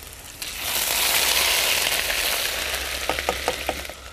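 Chilies and ginger sizzle in hot oil for a potato and spiced flattened rice stir-fry, a steady close hiss with a few sharp crackles near the end.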